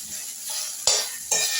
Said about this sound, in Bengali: কালো জিরে ফোড়ন দিয়েছি, ঝিঙেটা একটু ভাজা ভাজা করে নিয়েছি